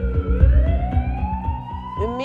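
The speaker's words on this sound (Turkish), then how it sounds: "Bak ambulans geldi." An ambulance siren wails loudly and steadily, its tone gliding slowly upward as the vehicle arrives, with a second rising siren sweep starting near the end.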